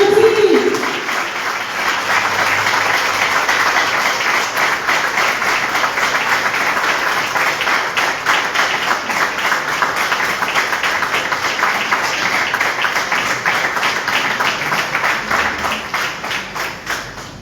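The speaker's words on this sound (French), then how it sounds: "On applaudit." Wedding guests at a civil marriage ceremony applaud as the officiant arrives, loud, continuous clapping from a full room that carries on for a long stretch before tapering off, with a brief voice at the start.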